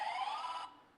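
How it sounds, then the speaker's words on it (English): A quiz buzzer at an insurance quiz final is pressed once, sounding a loud, steady electronic tone that holds for about two-thirds of a second, then cuts off and fades. "Just one by one if you can press the buzzer"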